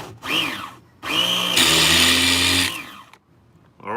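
Megatech Razor M16 1+HP model engine with no compression, primed, firing up: a loud, close, high-pitched buzzing roar that sputters, catches, runs hard for about a second, then dies off.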